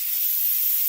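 Steam hisses steadily from an Instant Pot during rapid pressure release while chicken soup cooks, a loud, continuous, airy rush with no talk over it.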